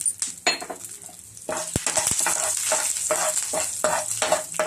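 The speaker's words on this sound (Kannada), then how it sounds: "ಇದು ಸಾಸಿವೆ ಹಾಕ್ತಾಯಿದ್ದೀನಿ, 1 ಮೆಣಸಿನ್ಕಾಯಿ, ಸ್ವಲ್ಪ ಕರಿಬೇವು." Mustard seeds, a green chili and curry leaves crackle and sizzle in hot oil in a pan, with a steady frying hiss, sharp pops and occasional stirring clinks of a spoon against the pan.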